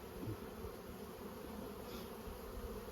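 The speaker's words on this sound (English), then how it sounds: "Plenty of bees in there, which is great." A dense, steady hum of many honeybees packed inside an open brood box during spring hive management, a continuous close drone with no pauses.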